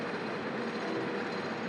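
Roller coaster train climbing the lift hill at Kings Island, a steady, continuous mechanical rumble heard from some distance.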